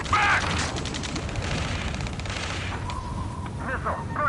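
Gunfire and explosions from an Ace Combat 7 battle, with dense bursts of shots and booms throughout, under shouted radio chatter and a steady roar of combat.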